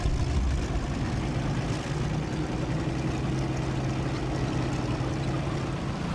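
Conqueror tank engine in War Thunder drones as a steady, low rumbling hum that holds level throughout with no pauses.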